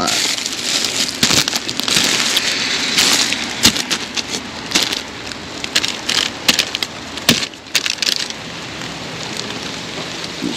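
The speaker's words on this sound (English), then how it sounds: "I think it's gonna start raining on me." Steady hiss of rain falling, dense and close, with some sharper crackles and taps breaking through at moments.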